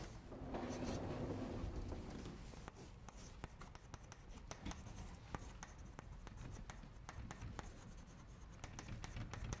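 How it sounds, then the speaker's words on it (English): Chalk or marker writing on a lecture board during a finance class, a continuous run of quick scratching and tapping strokes in an uneven rhythm, close and steady over a dull room hum, with no talking. "Maybe I better write it over here."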